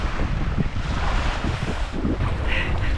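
Chilly wind buffets the microphone at Baylys Beach on New Zealand's west coast, a loud continuous roar with surf washing underneath, and no one speaks.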